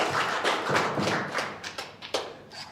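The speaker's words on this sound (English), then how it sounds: "first an applause," Live audience applause at an AI panel event in London: a short burst of scattered hand clapping that thins into a few last claps.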